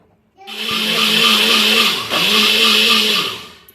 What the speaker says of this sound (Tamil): இதை மிக்சி ஜாரில் சுற்ற விட்டு கொடுத்துடலாம் அவருக்கு